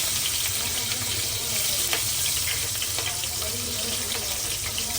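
Curry leaves dropped into hot oil with asafoetida for a tempering, giving a loud, steady, close sizzling hiss that holds constant throughout with faint crackles scattered on top.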